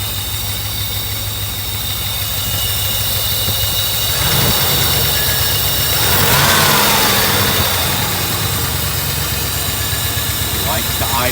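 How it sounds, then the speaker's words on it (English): A Mercedes 380SL with a faulty idle control module idles fast and steady, its engine holding a continuous mid-pitched drone with a slight swell partway through. Someone talks over it. "It likes to idle fast because there's no electronic control of the idle air valve."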